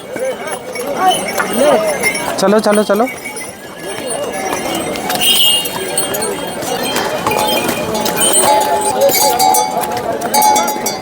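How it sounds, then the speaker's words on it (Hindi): Hooves of horses clatter on a muddy mountain trek to Kedarnath, a loose, busy clip-clop with occasional clinks of tack, moving close by while people talk and call out over it. "घोड़े वोड़े आने लग रहे हैं भाई, कीचड़ उचड़ मारेंगे फेंक के ये।"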